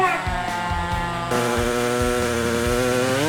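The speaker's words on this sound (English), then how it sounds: "We're going to jump up to the 5160 modified saws. So we're going to get hungrier and louder." A 5160 modified racing chainsaw at a lumber jubilee competition roars close and loud, its two-stroke engine revving hard with a rising, harmonic-rich scream and choppy bursts before settling into a sustained high whine.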